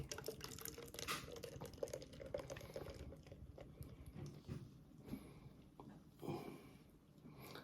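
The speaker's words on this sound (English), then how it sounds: "Some pouring action." BrewDog Puppet Master West Coast IPA, a 6.5% beer, is poured from close range into a glass, a continuous gurgling, fizzing stream with small splashes and clinks, no speech over it.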